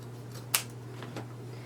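Scissors snipping deco mesh for a cardinal wreath, one crisp close cut followed by a couple of softer snips, over a low steady hum.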